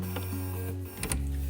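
Household sewing machine stitching a fabric bookmark with ric rac and ribbon, a steady close mechanical whir with a sharp rattling burst partway through, no talking.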